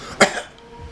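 A single short, sharp cough voiced by a person imitating the sound, close and loud, followed by quiet.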